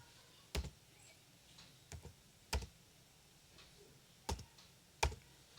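Keyboard keys tapped while entering a captcha on an online application form: five sharp, isolated clicks spaced irregularly about a second apart, fairly quiet against a faint room background, no voices.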